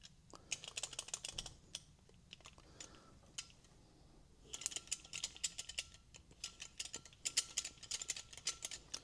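Tusk Speed T-Handle ratchet with a socket on the end being spun: rapid, fine clicking pawl runs in close, quiet bursts, pausing briefly midway before resuming in quick repeated spins.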